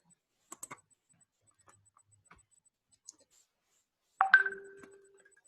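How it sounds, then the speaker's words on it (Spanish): A WhatsApp Web notification chime rings once near the end, a short bright tone with a sustained ringing tail, after a few faint clicks in an otherwise quiet room. "Le apagué el sonido al WhatsApp web que me había quedado abierto."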